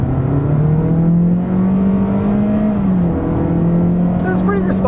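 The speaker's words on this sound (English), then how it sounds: "let's turn down onto this back road here and do an acceleration" A 2022 Toyota Corolla Cross AWD accelerates along a back road, its engine droning loud and steady from inside the cabin with a rising then settling pitch.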